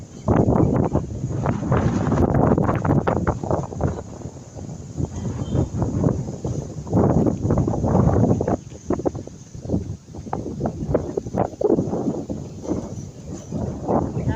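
Strong wind buffets the microphone in loud, uneven gusts that surge and ease throughout, with rustling underneath.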